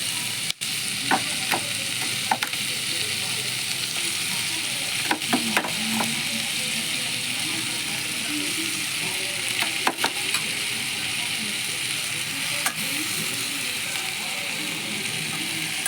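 Mashed banana stem frying in a pan, a steady close sizzle throughout with occasional clicks and scrapes of stirring, no talk.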